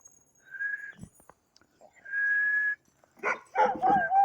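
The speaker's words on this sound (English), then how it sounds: "First time he ever howled and barked for me when I whistled." A pet dog named Bear, shut inside his house on a cold snowy day, answers two long steady whistles with short yelps and then a loud, drawn-out howl and barking near the end.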